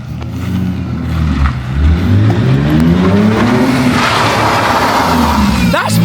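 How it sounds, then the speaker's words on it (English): A Jaguar S-type drift car with a hydraulic handbrake, engine revving loudly and rising in pitch as the tires squeal through a slide, with a sharp skid near the end. "does the hydraulic handbrake work?"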